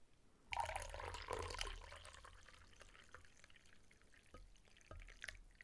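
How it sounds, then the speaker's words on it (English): Hot tea poured into a cup, a soft liquid trickle that starts with a splashy burst and settles into quiet dribbles and drips, close and gentle, no talking. "I'm gonna just pour some tea into my cup."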